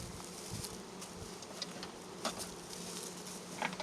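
Steady, low buzzing of many honey bees fills the background during a hive inspection, a dense hum with faint brief clicks over it, moderately quiet and continuous.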